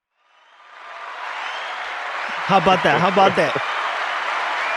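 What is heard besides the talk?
round of applause from audience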